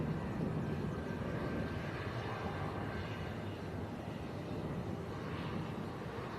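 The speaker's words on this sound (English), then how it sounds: "Ryanair from Toulouse on the go-around." A Ryanair airliner going around at Manchester Airport roars faintly in the distance, a steady broadband jet rumble that swells slightly before easing off.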